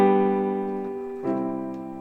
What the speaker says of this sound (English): This Italian augmented sixth chord going to G sounds like this.